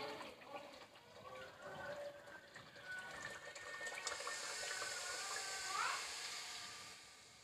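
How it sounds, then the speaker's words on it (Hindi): Water poured into roasted masala in a cooking pot while making kofta curry, a soft continuous hissing splash that swells midway and tapers off, fairly faint. "अब मैं इसमें पानी डालूँगी।"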